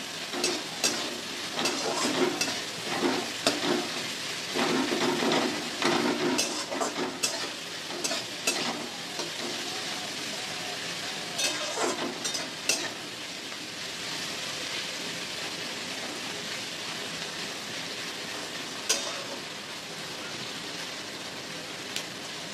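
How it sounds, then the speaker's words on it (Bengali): Onions salted and frying in oil in a pan, sizzling steadily with repeated scraping stirs from a spoon, busiest early on and then settling into a continuous crackle, close up with no talking. "যাতে পেঁয়াজটা তাড়াতাড়ি ভাজা হয়ে যায়"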